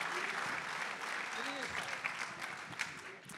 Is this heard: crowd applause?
yes